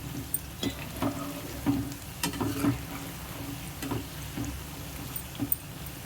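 Chicken pieces fry in a pan for chicken pickle, giving a soft, steady sizzle with scattered clinks and stirring scrapes, close up and fairly quiet, with no talk.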